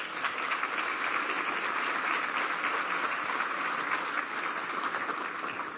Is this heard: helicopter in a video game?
no